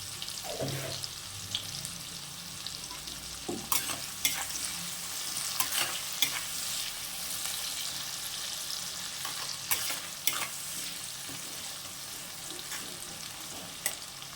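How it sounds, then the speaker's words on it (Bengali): Tomato and onion with salt frying in a pan, a steady low sizzle broken by sharp spatula scrapes and clinks against the pan every second or two, close and fairly quiet. "এবার এটা একটু ভেজে নেব।"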